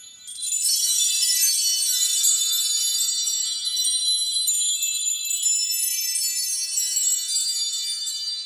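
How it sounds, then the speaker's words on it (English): A set of 48 orchestral chimes struck by hand rings out bright and sustained, a shimmering metallic wash that starts after a brief pause and holds for several seconds without fading, with no talk. "There's 48 chimes."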